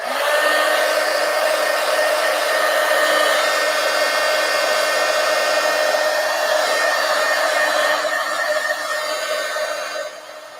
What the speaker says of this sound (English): Let's go ahead and dry.